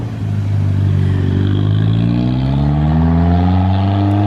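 Modified VW Golf GTI with a KO4 turbo, engine revving very loudly and rising steadily in pitch as it accelerates, close by and alone without talk.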